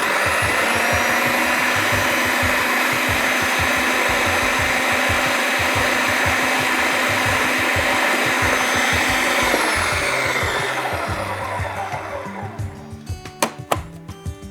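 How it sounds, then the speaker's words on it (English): A blender whirs loudly and steadily while blending salsa verde for beef, then winds down near the end into a few faint knocks and clatters, with no talking. "Then we'll just give it another blend."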